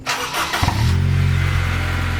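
A Honda EP3 fitted with a Spoon Sports N1 axleback exhaust starts up: a brief starter whirr, then the engine catches with a loud burst and settles into a deep, steady idle burble close by.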